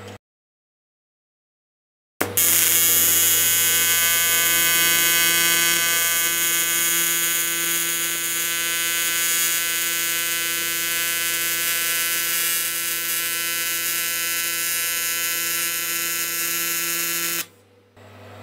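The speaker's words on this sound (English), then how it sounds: "Turn it over weld the other side." An R-Tech TIG welder running in AC mode on aluminium alloy box section gives a loud, steady electric buzz with a harsh high hiss. It starts abruptly after a short silence and holds evenly for about fifteen seconds before cutting off.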